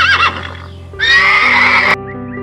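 A horse gives a loud, close neigh: a short call, then a long sustained whinny of about a second, ending abruptly over a steady background.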